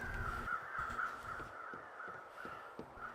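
Crows caw repeatedly in the video game The Long Dark, a series of harsh calls at moderate distance over a steady ambient wind-like bed, with no talking.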